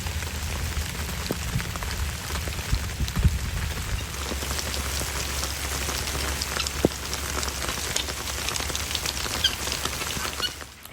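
Steady rain patters on surfaces around a goat farm during a cold winter storm, a dense continuous hiss with scattered close drops and a brief soft thump, no voices.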